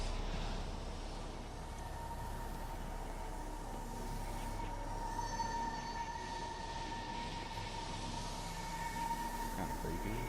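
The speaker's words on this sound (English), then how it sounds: "Oh, here's the train station." Train station ambience in Everybody's Gone To The Rapture: a low, steady rail rumble with faint metallic squeal and thin sustained tones, quiet and continuous, with no talking.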